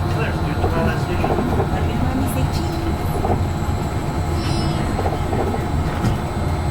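Disneyland monorail gliding along its track, heard from the driver's cab, gives a steady close rumble and rolling hum throughout, with a voice talking over it.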